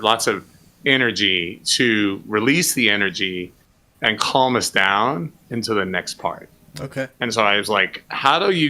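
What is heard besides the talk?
No everyday noise stands out behind the speech.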